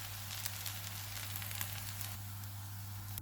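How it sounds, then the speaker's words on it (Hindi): Vegetable seekh kebabs fry in hot oil with a steady, close sizzle and scattered crackling pops, alone with no talk over it. "कबाब फ्राई हो गए हैं, इनको निकाल लेते हैं।"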